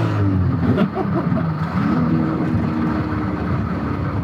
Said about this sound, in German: der zweite Gang fängt dann gleich an, ein bisschen zu kratzen